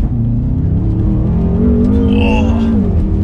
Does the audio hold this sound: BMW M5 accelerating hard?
yes